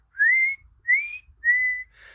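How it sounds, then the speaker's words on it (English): A person whistles three short rising notes, each clear and close, separated by brief pauses in a quiet setting. "give a little whistle"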